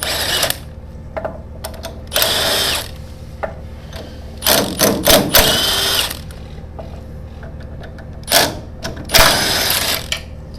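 Power impact tool backing lug bolts out of the wheel hubs of a 220MS tow-type topdresser, in several short bursts of a second or so, separated by pauses, close and loud, with no talking.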